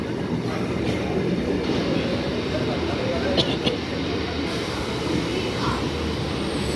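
An Up Naihati–Bandel local train rumbles steadily through Hooghly Ghat railway station, a loud continuous roll of wheels and carriages with a few faint clanks and a brief high squeal near the middle.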